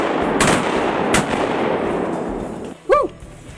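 Two loud shotgun blasts at flying wood ducks ring out close by in Arkansas flooded timber, followed moments later by a duck's quacking call, all over outdoor background noise.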